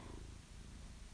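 A cat purring close up, a soft continuous rumbling with a steady rhythmic pulse, alone and quiet.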